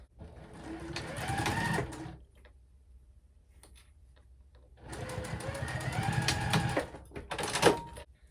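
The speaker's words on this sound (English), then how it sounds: "we'll just go ahead and sew right there using a 3/8 inch seam allowance" A sewing machine runs a seam on a clutch with a 3/8 inch seam allowance, two close bursts of rapid mechanical stitching separated by a quiet pause.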